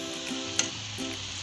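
Veg chowmein noodles with soy sauce and vinegar are stirred in a hot pan, a steady close sizzle with one sharp clink of the utensil against the pan.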